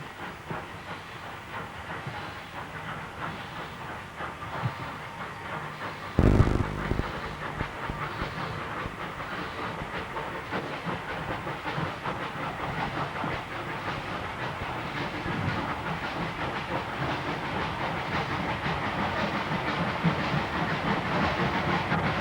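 A Southern Railway steam locomotive runs with a steady broad rumble and hiss, growing slightly louder over time, and a sharp loud burst around the quarter mark before continuous rail noise resumes.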